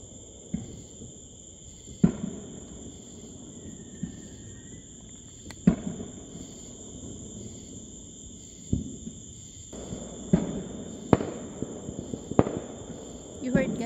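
Far-off Independence Day fireworks crackle and thud at irregular intervals across a night scene, faint distant bangs over a constant high cricket drone, growing busier toward the end.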